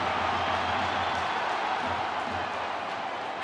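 A large stadium crowd roars and murmurs continuously at a Wigan Warriors Super League rugby league match, a dense, steady wash of distant voices with no break.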